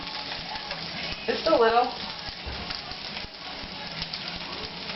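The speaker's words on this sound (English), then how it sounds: "Let's put a little olive oil in our pan and get these onions going." Onions frying in olive oil in a pan, a steady low sizzle throughout with a brief louder crackle burst as food hits the oil, while a voice speaks briefly over it.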